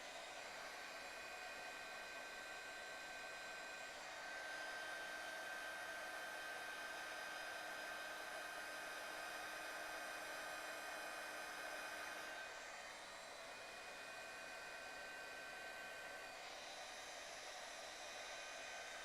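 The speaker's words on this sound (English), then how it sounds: "I'll hit this with my heat tool and we'll melt that embossing powder." A crafting heat tool blows steadily while melting embossing powder, a constant airy hair-dryer-like whoosh that runs throughout at moderate level, with no talk.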